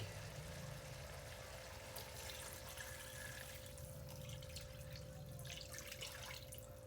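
Water is poured into a pot of chicken tinola with chayote in a home kitchen, making a steady, even rush that runs the whole time under a low electrical hum.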